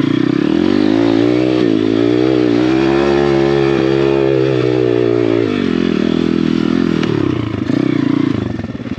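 A dirt bike engine revs loud and close on a trail, holding a steady buzzing drone that rises and falls with the throttle, then dips and picks up again.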